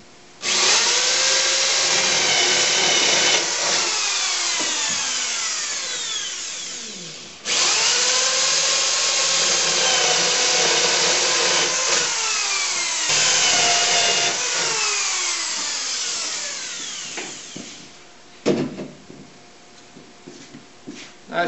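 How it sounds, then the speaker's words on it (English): A power drill bores half-inch dowel holes through wood for a steam bending chamber, loud and close, in several long sustained runs with pitch-dropping bogs and short pauses between them. "now I'll drill half-inch holes for dowels to go across to hold the wood while it's drying"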